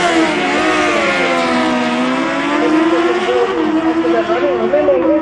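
A Porsche 934 race car tears past at about 242 km/h at Tarlton Raceway, its loud, high engine drone holding strong while the pitch slides and wavers as it goes by.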